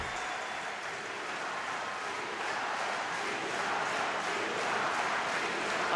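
Crowd noise fills a women's foil fencing arena during an Italy versus France team bout in Milan, a steady broad wash of applause and cheering that swells slightly louder toward the end, with no clear voices standing out.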